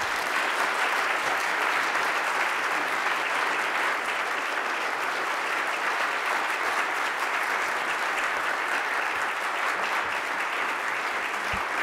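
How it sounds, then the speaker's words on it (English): Warm, sustained audience applause fills a ceremony hall as a speaker is welcomed to the podium at a Martin Luther King Jr. remembrance event, a steady dense wash of clapping with no voices. "Thank you for that warm applause"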